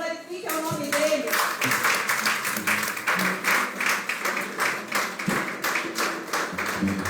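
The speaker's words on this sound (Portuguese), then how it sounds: "Aplauda Ele, glorifique o nome dEle." A church congregation claps together in a steady, rhythmic beat during Portuguese-language worship, the dense clapping sustained throughout over music and singing.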